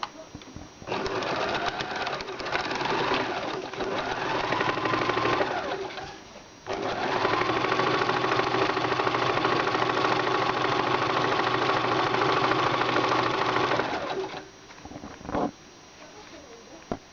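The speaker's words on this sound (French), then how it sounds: "ensuite la coudre de chaque côté dans la longueur" A sewing machine runs in long, steady bursts while stitching fabric along its length, pausing briefly midway and stopping near the end, with a voice talking faintly underneath.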